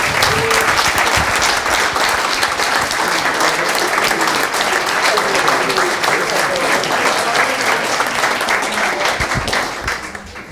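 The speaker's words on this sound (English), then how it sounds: "we need to give a big round of applause to the staff" Loud, sustained applause from a large audience at a volleyball coaches' convention, honoring the convention staff, holding steady for about ten seconds before starting to fade at the end.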